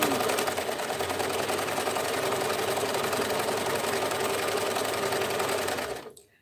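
A sewing machine stitches in a fast, even, close whir that runs steadily and then slows to a stop near the end, with no talk over it.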